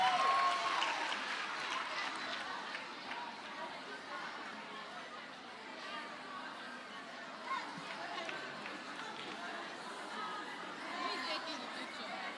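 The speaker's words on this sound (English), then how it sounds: "So let's clap for her once again." An audience at the Girl Child Summit 2023 claps for a prize winner, a broad wash of applause mixed with crowd chatter and some laughter, starting strongest and then settling into a steady, fainter murmur.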